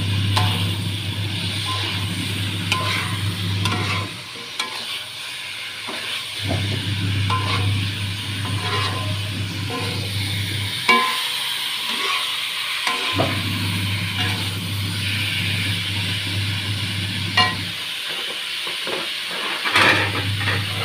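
Salted fish, tofu and tempeh frying in a pan, a steady sizzle and hiss over a low continuous hum that cuts out briefly a few times.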